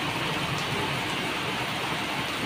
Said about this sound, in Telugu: ఫుల్ వర్షం పడుతుంది నిజంగా.